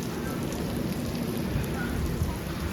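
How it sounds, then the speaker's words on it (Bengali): Monsoon rain pours outside a train in North Bengal, heard from a third AC coach as a steady, dense patter with a low rumble under it and no voices. "দেখেন দেখেন কি সুন্দর বৃষ্টি পড়ছে"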